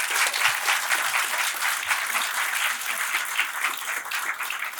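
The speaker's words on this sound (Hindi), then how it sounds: "दोस्तों तालियों के साथ एक बार।" An audience at an Urdu poetry show applauds steadily, a dense wash of clapping with no break, moderately loud and close.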